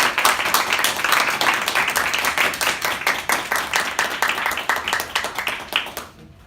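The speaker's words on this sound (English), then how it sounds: "please join me in giving a warm round of applause to my volunteer tonight" Audience applause welcoming a volunteer on stage, dense steady clapping from a crowd lasting several seconds before fading out abruptly.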